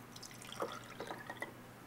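Alcohol poured into a small beaker used as a shot glass, giving a quiet, uneven trickle of liquid with a few brief splashy drips over two seconds and no talk.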